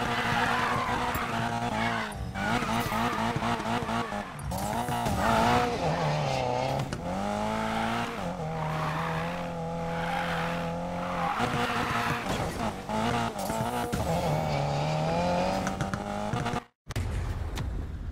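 Cars racing and drifting in Need for Speed Payback, with sustained tire squeals and skidding over roaring, shifting engines and revving, loud and continuous with a brief dropout near the end.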